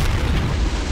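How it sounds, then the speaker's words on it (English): A mortar shell explodes in the WW2 strategy game Men of War Assault Squad 2: one loud, deep boom that fills the whole brief moment. "It's this stupid mortar."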